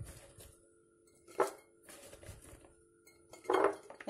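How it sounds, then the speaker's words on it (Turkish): Hot peppers and garlic being packed into a glass jar for pickling, with soft clinks and knocks of produce against glass, two louder bumps standing out among quieter handling sounds. "Burada kavanozumun içerisine dolduruyorum."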